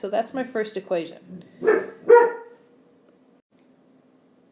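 Several dogs bark in the background in a short burst of yips and barks, heard at a moderate distance between and after a person's spoken words.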